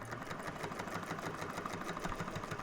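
A sewing machine stitches across a bag lining in a fast, even mechanical whir with a regular needle rhythm, close and continuous.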